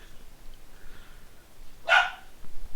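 A single short puppy bark from a Mana series video game, bright and clear, standing out from otherwise quiet game ambience near the end of the moment.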